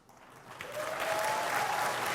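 Audience applause at Nintendo's E3 2005 presentation, a crowd clapping that builds quickly from a light patter into a full, sustained ovation.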